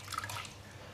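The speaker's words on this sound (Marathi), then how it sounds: "ह्याचं हे पाणी काढून घेते व्यवस्थित घट्ट पिळून." Water drips and trickles from grated fasting-bhajji batter ingredients as they are squeezed tightly by hand, a few quick, close droplets early on that fade into quiet.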